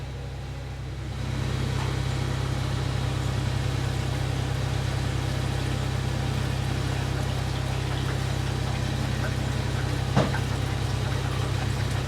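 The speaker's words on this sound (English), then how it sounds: "we'll just put some fuel in it, fire it up, hit the road" The car Fools Gold running after start-up, a loud, close, steady engine idle with a low throbbing rumble that holds evenly throughout, with no talking.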